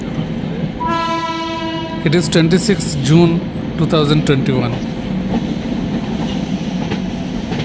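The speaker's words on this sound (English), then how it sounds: "We are entering into the Gaya Junction railway station." A superfast special express train rolls into Gaya Junction railway station, sounding a loud sustained horn over rumbling wheels and clattering rails, with someone speaking briefly in the middle.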